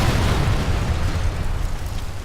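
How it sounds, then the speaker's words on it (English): A plane blows up in Arma 3 at the Tanoa airfield, the blast tearing a roof off: a loud, continuous roaring explosion with heavy low rumble that fills the whole stretch without pause. "You can see the explosion taking the roof off."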